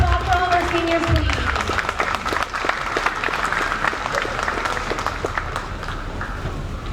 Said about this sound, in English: All round of applause for all of our seniors